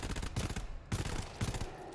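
Enemy gunfire in the co-op shooter GTFO crackles in three rapid automatic bursts, loud and close, with brief gaps between them and no talk over the shooting.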